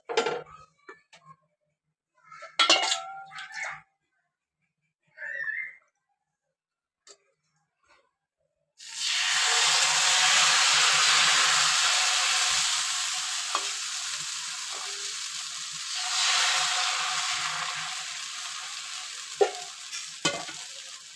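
Bajra ghavane batter hits a hot oiled pan on a high flame and breaks into a loud, steady sizzle that carries on for many seconds, after a stretch of quiet, sparse sounds.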